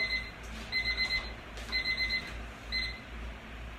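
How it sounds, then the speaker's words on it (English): A kitchen timer alarm rings in quick bursts of high electronic beeps, three short clusters separated by brief gaps, fairly quiet against a faint room hum. "That was my timer to change the water outside on the lawn"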